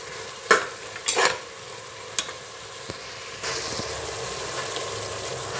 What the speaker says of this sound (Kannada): ಈಗ ಪುದೀನಾ ಮೆಂತ್ಯ ಸೊಪ್ಪು ಕೊತ್ತಂಬರಿ ಸೊಪ್ಪು ಇದು ಸ್ವಲ್ಪ ಚೆನ್ನಾಗಿ ಫ್ರೈ ಆಗಬೇಕು